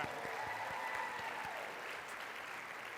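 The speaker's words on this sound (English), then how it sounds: "By a show of applause, how many people are here?" Audience applause fills a comedy show venue, a steady dense wash of clapping from a crowd that holds at an even level for the full few seconds with no talk over it.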